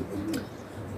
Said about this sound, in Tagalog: Datingan ngayon ng ibon mga tropa, 2 oras na silang lumilipad.